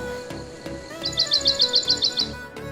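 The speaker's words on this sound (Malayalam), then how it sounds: "ആ വെള്ളം ഒഴുകുന്ന ഒരു സൗണ്ടും കിളികളുടെ സൗണ്ടും അല്ലാണ്ട് മറ്റുള്ള സൗണ്ടുകളൊന്നും നമ്മൾ കേൾക്കുന്നില്ല" A bird chirps in a quick run of about ten bright, repeated notes, fairly close and clear over a soft background hum, beside flowing water at Paniyeli Poru eco-tourism site in Ernakulam.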